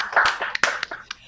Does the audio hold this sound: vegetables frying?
no